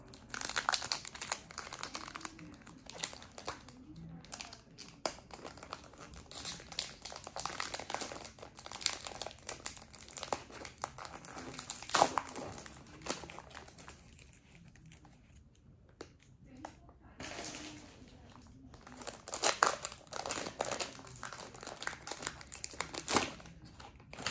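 A Pokémon Fusion Strike booster pack torn open close up, with crinkly foil crackling and ripping in bursts and short pauses between them.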